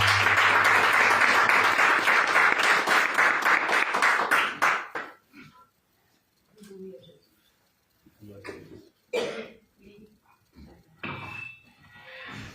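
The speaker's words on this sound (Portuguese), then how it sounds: "Vamos receber o pastor Creito com as palmas que louva ao Senhor" A church congregation claps to welcome the pastor, a dense, steady burst of applause for about five seconds that then stops, followed by quiet room sounds and brief talk.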